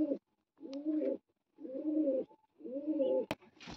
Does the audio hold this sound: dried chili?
no